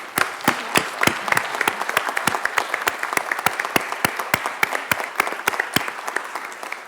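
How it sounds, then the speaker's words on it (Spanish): An audience at a press freedom committee meeting applauds, a steady, moderately distant patter of clapping hands lasting several seconds with no talk over it. "Le damos un nuevo aplauso a Lucila"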